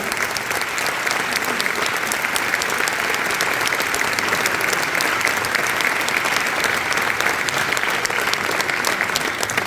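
Sustained, dense applause from a crowd at a town festival opening in Gurb, Catalonia, loud and steady for the whole stretch without pause.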